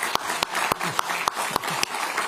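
Scattered, fairly close hand claps from the attendees of a political party caucus meeting, a handful of sharp individual claps over a continuous crowd murmur.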